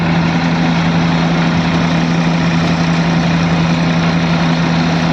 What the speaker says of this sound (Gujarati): આ થ્રેશર ચલાવવામાં ડબલ ક્લચની જરૂર પડે છે આપણે ટ્રેક્ટરમાં